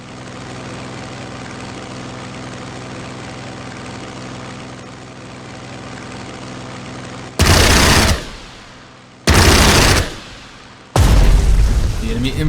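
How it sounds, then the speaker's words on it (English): A fighter plane attacks in the Pacific war strategy video game Strategic Mind: The Pacific: a steady engine drone gives way to three loud, sharp bursts of gunfire and explosions in quick succession, with no talk. "Repeat the attack with the second fighter"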